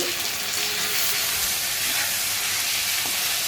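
Onion, garlic and curry leaves sauté in a pan, giving a continuous dense hiss of frying oil that holds at a steady level throughout, with no talk.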